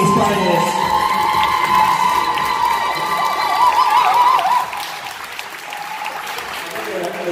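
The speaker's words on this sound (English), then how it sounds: "Can I get a very, very, very, like, thunderous round of applause for all six of these finalists?" Loud, dense applause with cheering and whoops from a crowd honoring six poetry slam finalists, sustained for several seconds before easing slightly, with shouting voices mixed throughout.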